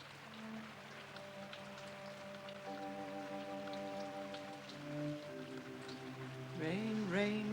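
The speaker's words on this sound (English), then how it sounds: "Rain, rain, go away." Steady rain patters at night in wartime Britain, with sustained musical tones layered over it and a voice rising near the end.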